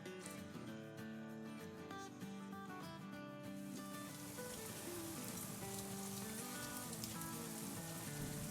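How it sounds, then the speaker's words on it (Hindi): Heavy rain pours down steadily as a dense, hissing wash of drops, with music or tonal sounds layered over it early on before the rain dominates, continuous and fairly loud. "हमारे यहाँ इतनी ख़तरनाक कड़ाकेदार बारिश हो रही है"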